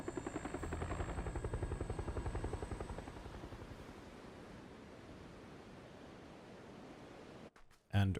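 Helicopter in the battle royale game PUBG, a close rhythmic rotor thump that is strong at first and then eases into a steadier whir, cut by a brief dropout and a loud burst near the end.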